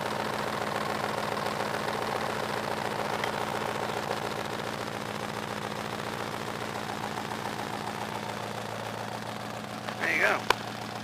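A Rover V8 engine idles steadily and close by, a continuous low rumble held for the whole stretch, with a brief louder burst near the end.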